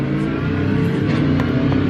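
Porsche 963 LMDH race car engine in a racing sim video game, a loud, continuous, buzzy engine note running steadily throughout, close and dense with no talk.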